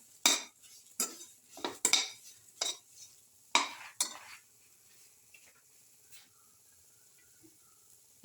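A spoon scrapes and clinks against a pan while semolina is sautéed for a black currant, cardamom and coconut milk soup, with sharp irregular strokes over a few seconds, then quieter scattered taps.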